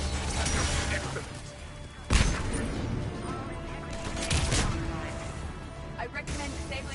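Turret gunfire in the video game Mass Effect 3, with loud bursts at about two seconds and again around four and a half seconds over a dense, noisy battle background.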